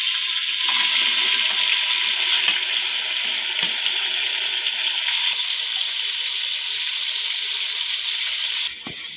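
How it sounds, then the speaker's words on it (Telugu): Onions, tomato, coriander and mint sizzle loudly in a pan for mutton biryani, a dense, steady frying hiss that runs almost the whole time and drops off near the end. "కట్ చేసి పెట్టుకున్న ఎర్రగడ్డలు, టొమాటో, కొత్తిమీర, పుదీనా వేసుకుంటున్నామండి."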